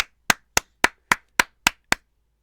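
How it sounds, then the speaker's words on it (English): One person claps slowly and evenly, seven sharp, crisp claps close to the mic at a regular beat, followed by silence. "let's give him a round of applause."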